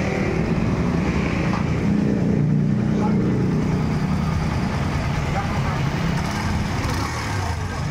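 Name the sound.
Kawasaki Barako III motorcycle engine running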